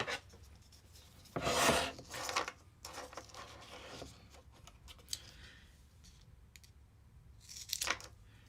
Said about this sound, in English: Easiest thing to do, get some scissors.